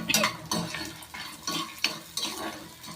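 Chana dal with a little salt being dry-roasted in a pan, a spoon scraping and stirring the lentils in quick rustling strokes with light clinks against the metal, close and steady, no talk.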